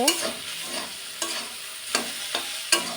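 Spinach frying in a pan for a palong shak dish hisses softly while a spatula knocks and scrapes against the pan in sharp, irregular strokes about every half second, close by with no talk.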